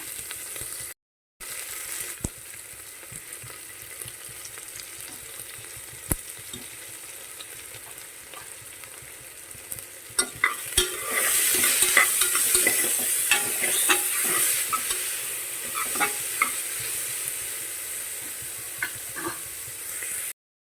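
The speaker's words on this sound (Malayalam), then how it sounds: "ഒന്ന് ചെറുതായിട്ട് വഴറ്റിയെടുക്കും" Onions sautéed with a pinch of salt in a pan for Kerala-style kadala curry, a steady sizzle with scattered scraping stir strokes that grow louder and busier partway through.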